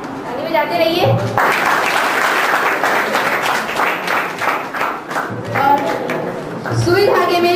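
A crowd at a 2013 farewell event at JJIC Chunar breaks into sustained, dense applause lasting several seconds, with a voice speaking over it at the start and again as the clapping fades.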